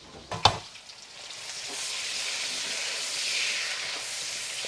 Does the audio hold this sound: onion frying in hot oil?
yes